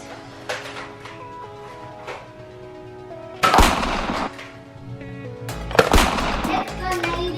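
A Nerf blaster fires during a backyard toy battle, giving two sharp bursts a couple of seconds apart over a busy background of faint voices and small knocks.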